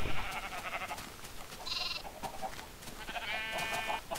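Sheep in the video game Minecraft bleat in a few short, nasal calls, one after another, against a quiet background with no talking.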